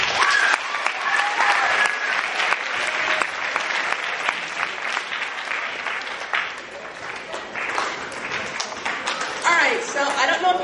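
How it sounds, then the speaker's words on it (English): Sustained loud applause from an audience at a show, dense clapping with some cheers running continuously for about ten seconds before tapering slightly. "Give them an extra round of applause too."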